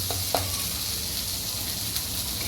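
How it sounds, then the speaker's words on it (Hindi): Masala frying in oil in a pan for an arbi leaf (kopal) sabji, with a continuous close sizzle and occasional stirring scrapes and pops throughout. "इस तरह भूनना है मसाला को।"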